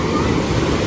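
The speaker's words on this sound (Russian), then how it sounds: "Это еще мягкая волна." Sea waves break on the beach at Gazipaşa, Turkey, a steady roar of surf filling the whole moment with constant rushing wash and wind buffeting the microphone.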